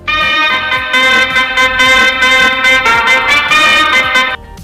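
Busy electronic music with bright, buzzy synth chords over a steady thudding beat, loud and continuous, stopping suddenly just before the end.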